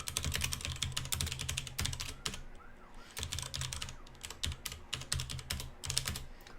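Fingers type on a computer keyboard at a command prompt in quick bursts of crisp, close keystrokes, broken by short pauses before the clatter resumes.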